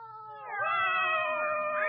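Cat meowing in a radio drama: a single drawn-out, wavering meow, close and clear, rising then holding steady for over a second.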